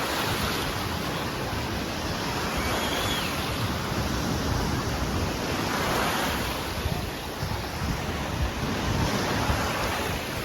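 Constant roar of Black Sea surf washing onto the beach at Dzhemete, broad and loud, mixed with steady wind buffeting the microphone.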